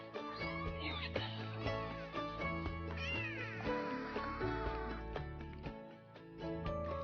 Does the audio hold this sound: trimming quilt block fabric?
no